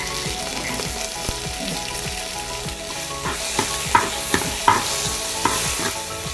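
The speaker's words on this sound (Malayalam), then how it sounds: "ഉള്ളി ചേർത്ത് കൊടുത്ത് നന്നായി വഴറ്റിയെടുക്കണം ഇനി അതിലേക്ക് രണ്ട് തക്കാളി ചേർത്ത് കൊടുക്കാം" Onions and tomatoes sauté in a pan for a fish head curry, with a steady close sizzle and repeated spatula scrapes and taps growing sharper toward the end, with no voices.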